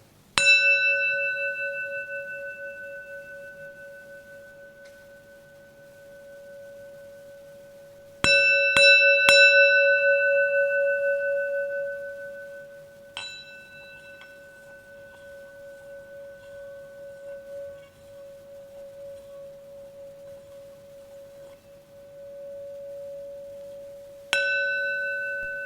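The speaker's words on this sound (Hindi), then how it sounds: "एक घंटी की आवाज होगी, गौर से सुने।" A meditation bell is struck several times at uneven intervals, each clear tone ringing out and slowly fading in near silence.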